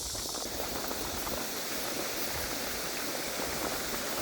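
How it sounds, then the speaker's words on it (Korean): A natural waterfall beside the Hantan River near Sinap-ri roars in a steady, dense rush of water that fills the whole stretch evenly, with no voices over it. "자연 폭포 아 자연 폭포."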